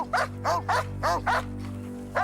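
A pet dog barks in a series of sharp, close barks, about six in just over two seconds, set over a steady low background hum.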